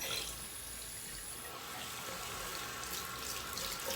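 Tap water runs steadily into a bathroom sink, being warmed up before washing a facial cleansing brush head; a close, even rushing flow with no talk over it.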